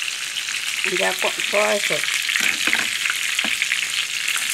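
Chicken pieces frying golden in hot oil with an herb and curry seasoning mix, a steady loud sizzle throughout with a brief voice speaking over it.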